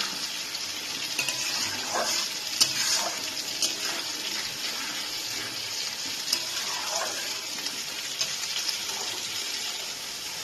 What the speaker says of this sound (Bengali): আমি ভালো করে কষিয়ে নেব মশলাটা যত ভালো করে কষানো হবে তরকারির টেস্ট তত বেশি হবে